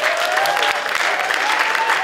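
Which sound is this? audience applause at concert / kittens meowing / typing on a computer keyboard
audience applause at concert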